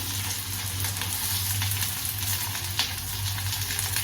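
Chopped onions fry in hot oil with curry leaves in a pan for a Kumari-style squid chukka, a steady, loud, close sizzle with faint crackles and occasional stirring scrapes throughout.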